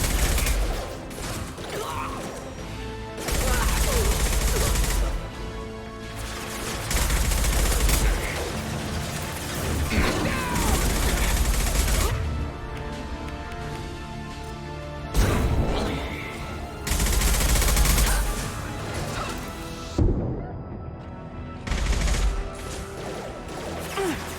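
Heavy gunfire in the video game Mass Effect 2, with loud sustained bursts of automatic fire broken by short pauses and crashing impacts across the whole stretch.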